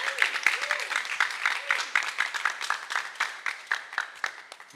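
A small group claps in a French-speaking class or gathering, the claps coming in loose, uneven bursts of moderate loudness, with a brief voice tone rising and falling early on.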